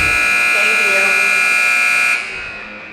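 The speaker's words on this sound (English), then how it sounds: "lots of noise going on here as the buzzer is right behind our heads" A loud electronic buzzer blares steadily right beside the listener in a school gym during a Christmas tournament basketball game, holding for about two seconds before cutting off into crowd noise.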